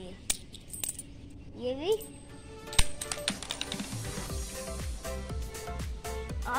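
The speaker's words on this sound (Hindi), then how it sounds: "और हाँ ये 20 के सिक्के भी आए हैं, ये देखिए" Indian 20-rupee coins clink and tinkle as they are handled and dropped together, bright metallic chimes in irregular bursts, close by, with brief speech from one person over them.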